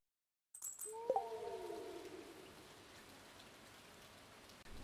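Soft, steady rain falls in Stardew Valley, a gentle hiss of drops that begins after a moment of silence, with a brief tonal chime early on, then continues quietly on its own.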